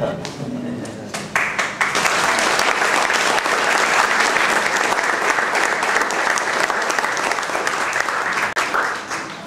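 Polite audience applause fills a room at a civic ceremony honoring a DC pro tennis team, steady and sustained for several seconds, with some voices mixed into the clapping.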